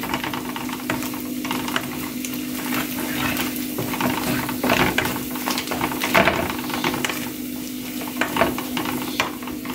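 Egg stir-fries in a pan with noodle masala for Maggi noodles, a steady close sizzle under repeated spatula scrapes and clatters against the pan, with no voices.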